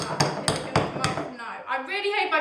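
Four sharp taps against a loaf tin holding a stuck double chocolate loaf cake, evenly spaced and close, then a softer clattering scrape as the taps stop.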